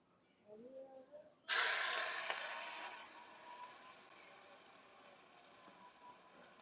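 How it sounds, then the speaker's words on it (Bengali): Khesari lentil fritter batter drops into hot oil in a pan, setting off a sudden loud sizzle that slowly eases into steady frying, after a brief voice just before. "এখন প্রথমে আমি ডালের বড়াগুলো ভাইজা নিব"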